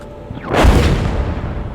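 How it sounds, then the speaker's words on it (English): Incoming enemy artillery in the tank game GHPC, a single loud, heavy boom that swells and then rolls away into a long rumbling tail. "enemy artillery is coming in"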